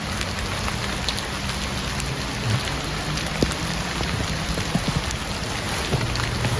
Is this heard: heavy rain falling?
yes